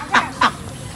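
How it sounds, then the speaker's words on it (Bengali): A flock of white ducks in a park gives two short, close quacks in quick succession, followed by quiet outdoor background. "এই এক গাদা সাদা হাঁস।"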